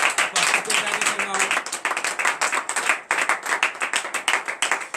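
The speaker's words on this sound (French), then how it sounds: "donnez une vive acclamation à l'Éternel" A church congregation at a morning prayer service claps together in lively acclamation, steady rapid hand claps filling the room for several seconds with voices mixed in.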